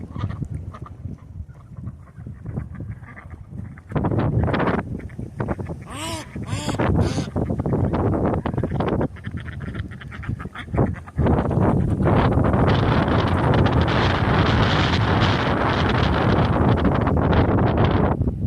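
Strong wind of about 20 miles an hour buffeting the microphone near a big reservoir, loud roaring gusts that swell and drop, with a voice talking between them and a few bird calls.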